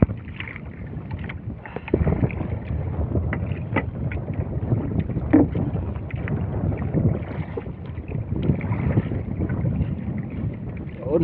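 Strong wind buffets a small fishing boat out at sea among big waves, a steady rushing roar with gusty bursts and water sloshing against the hull, the microphone catching close wind noise throughout, with faint voices mixed in.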